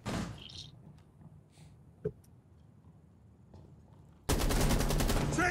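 Shotgun blasts in a video game, a loud burst of repeated booming shots erupting at the end after a quieter stretch with a single sharp report midway.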